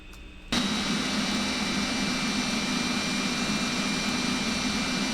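Simulated MD80 jet engines spool up for the takeoff roll in X-Plane, a loud, steady roar that starts abruptly and holds constant with a tonal whine on top.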